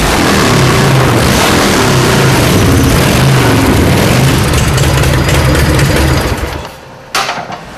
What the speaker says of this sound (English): Larry listens carefully to the heartbeat of his engine, tuning and refining